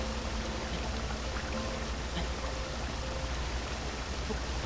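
Steady, dense rushing of a waterfall in Zelda: Breath of the Wild, a continuous broadband roar of falling water that holds evenly throughout at moderate level, with no voices over it.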